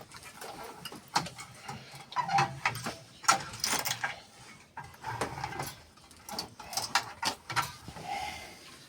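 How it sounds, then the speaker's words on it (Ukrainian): Bolts are threaded by hand onto the gearbox of an Opel Omega B V6, producing faint metallic clicks, ratcheting and scraping clatter in irregular bursts, heard up close without talk. "болти вже руками на коробці закручую"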